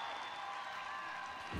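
A Delaware home crowd roars and applauds after a goal by Dean DeSimone, a steady dense wash of cheering that swells slightly near the end.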